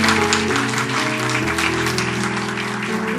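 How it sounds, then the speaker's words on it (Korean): Applause from a church congregation during a Sunday second worship service, dense clapping blended with sustained organ or keyboard chords that carry on beneath it throughout. "찬양의 박수 주님께 드리겠습니다."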